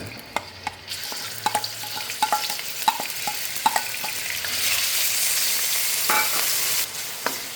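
Bacon frying in oil in a pan for a pork and bean sauce, a steady close sizzle with scattered sharp pops and spatters and occasional stirring clinks, the crackle swelling louder toward the end.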